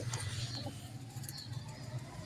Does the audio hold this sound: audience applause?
no